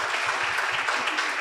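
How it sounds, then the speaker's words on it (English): A burst of applause from a small audience at a teen panel discussion, steady clapping sustained throughout the short moment. "Now you can give these ladies a nice hand clap."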